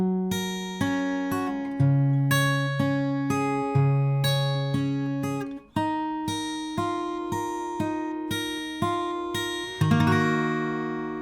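Acoustic guitar fingerpicks the closing line of a song, a steady rolling pattern of plucked notes over shifting bass, ending on a strummed chord left to ring, played alone with no talking.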